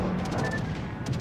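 A battleship in the naval video game World of Warships takes a gunfire hit, heard as a dense, loud, rumbling burst of booming impacts that fills the whole moment with no voices.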